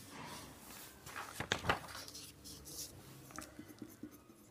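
Marker or chalk writing a chemical reaction on a classroom board, a faint scratchy stroke sound with a louder rubbing burst midway, quiet room with no talk.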